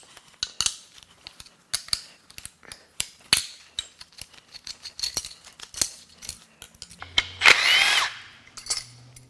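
Hand tools work loose the fuel pressure lines on a recalled GM L87 6.2L V8 during teardown: a run of sharp metallic clicks and ratcheting taps, with a brief whirring power-tool burst near the end.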